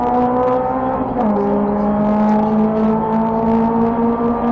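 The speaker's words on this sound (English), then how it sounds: "Good to just listen to these cars" Honda Civic Cup race cars lap Donington Park in a steady, loud engine drone that holds its pitch and dips slightly at about one second, as several cars run close together.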